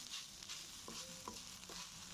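Fried rice stirred and tossed in a hot pan, with a steady close sizzle and a few soft scrapes and knocks of a spatula against the pan.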